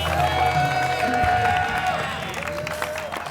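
Studio audience at an Indonesian comedy show breaks into applause and cheering, a dense crowd wash under tonal music that fades slightly toward the end.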